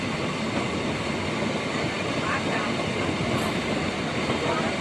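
Azimganj–Katwa MEMU special train running steadily on the rails near Dahapara Dham and Lalbagh Court, a continuous loud rumble with wheel noise throughout and a brief high squeal near the end.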